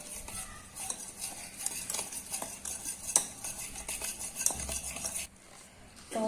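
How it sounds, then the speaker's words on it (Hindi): Spoon or whisk clinks and scrapes against a bowl in a quick, irregular rhythm while cake batter with vanilla essence and a pinch of salt is mixed, close up and quiet, with no talking. "तो सारी चीज़ों को अच्छे से मिक्स करेंगे।"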